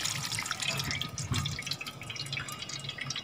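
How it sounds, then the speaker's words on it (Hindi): Water drains and drips from soaked lasoda fruit sitting in a strainer, a close run of small irregular drips and splashes over a soft running trickle. "पानी जो है वो नीचे निकल जाएगा इसका।"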